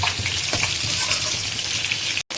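Fish heads from a catla frying in hot oil in a pan, a continuous close sizzle with bubbling crackle and no talk, cut off briefly near the end.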